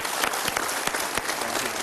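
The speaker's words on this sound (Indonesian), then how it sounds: "Untuk Pak Rahmat kita berikan tepuk tangan." Applause from a seated audience at a sales seminar, dense steady clapping for a couple of seconds with no talk over it.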